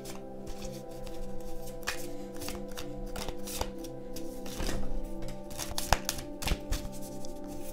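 Tarot cards are shuffled again and again, with crisp riffling bursts and soft slaps in an uneven rhythm over a faint background hum.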